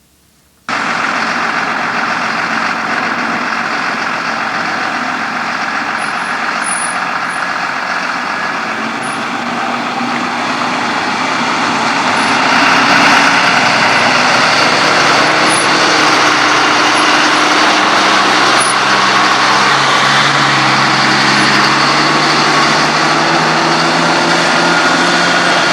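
A fire truck's engine runs steadily during a ride around Burgeo in 1996, a continuous close mechanical drone that grows slightly louder partway through, with no talking.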